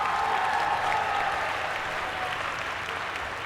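A crowd at a high school dual enrollment recognition ceremony gives sustained, even applause that tapers slightly over a few seconds, many hands clapping together in a large room.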